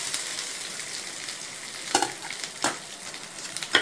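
Grated coconut and cashews frying in a pan for coconut burfi, with a steady soft sizzling hiss and a few sharp spoon clinks and scrapes as the mixture is stirred.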